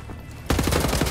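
Assault rifle gunfire in the video game Wolfenstein: The New Order erupts suddenly after a short quiet stretch, a rapid, loud automatic burst of closely spaced shots.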